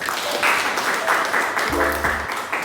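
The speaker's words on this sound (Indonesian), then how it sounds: "Tepuk tangan untuk kita semua" Audience applause closing a public speaking lecture session, a steady crowd clapping throughout with a brief low tonal sound partway through.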